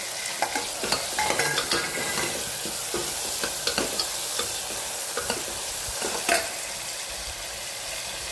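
Tomatoes and garlic are stirred in a sizzling frying pan, with a soft steady sizzle beneath repeated close scraping and clicking strokes of a spoon, no voices.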